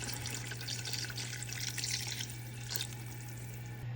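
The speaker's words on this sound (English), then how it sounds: "More water just to fill it up." Tap water pours steadily into a pot for beef pho, a constant close hiss and splash under a low hum, with no talking.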